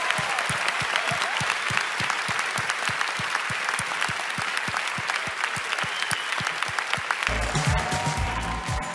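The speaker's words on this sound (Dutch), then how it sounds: "een mega grote dankjewel met een mega groot applaus" A large audience in a Dutch-language studio show gives a big, sustained round of applause, with steady rhythmic clapping throughout. Near the end a low rumble and voices join in.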